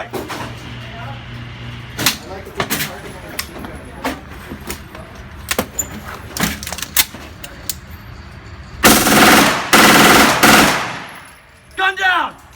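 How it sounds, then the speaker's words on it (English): A crew-served Sig MPX Cruiser super light machine gun fires outdoors: scattered sharp clicks and bangs, then one loud sustained burst of about a second and a half, and finally a short clipped burst. "we're going to demonstrate the Sig MPX Cruiser Super Light Machine Gun"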